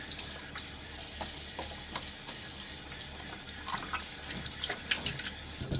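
Tap water runs steadily into a sink while a Gillette Nacet blade in a Fatip Grande razor is rinsed mid-shave, a continuous splashing hiss with small irregular spatters throughout.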